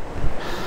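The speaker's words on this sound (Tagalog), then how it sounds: "Tsaka mahangin." Wind buffets the microphone outdoors at Sitio Pidpid in a brief, steady rush with a low thump partway through, and no voices.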